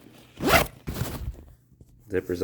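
The zipper on an OCP uniform is zipped in two quick, close strokes, followed by a brief voice at the end.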